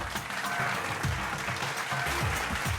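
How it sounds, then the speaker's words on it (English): A round of applause, dense clapping that carries on evenly for a few seconds at a steady moderate level, with no voices heard above it. "a round of applause for Riddles right there"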